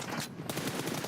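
A dense, rapid automatic gunfire spray in a PUBG Mobile team deathmatch, loud and continuous with a brief gap, no voices over it.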